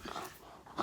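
A puppy makes soft whimpering, grumbling noises, close and fairly quiet, ending in a brief higher yip.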